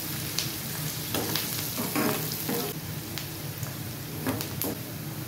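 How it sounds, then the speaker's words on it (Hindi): Onion fries in a pan with green chillies and is stirred, giving a loud, continuous crackling sizzle with soft scraping stirs on top and no talking. "अब डाल देंगे हम 1 प्याज। चला दूंगी हम सभी को।"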